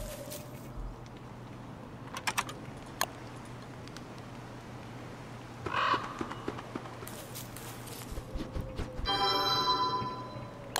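Birds caw in the video game Don't Starve, with a couple of short harsh calls standing out from a steady ambient game soundtrack. A brighter, buzzy burst comes near the end.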